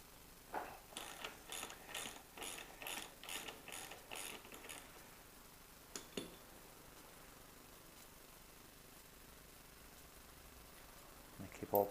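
A ratchet wrench loosening the 24mm front axle nut on a DRZ 400 motorcycle, a series of about a dozen quick metallic clicking strokes, close and fairly quiet, followed by a couple of faint knocks and a louder clatter at the end.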